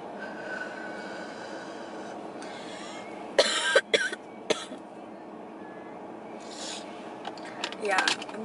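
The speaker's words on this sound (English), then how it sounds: "I'm just gonna cough after every hit." A few sharp coughs and throat clearing after a smoking hit come in quick bursts midway and again near the end, over a low steady background hum.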